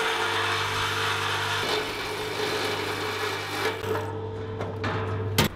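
A saw cutting during house demolition with a Kango blade whose tip is worn and heat-damaged, making a steady close whirring drone with a low motor hum and a brief rough rasp near the end.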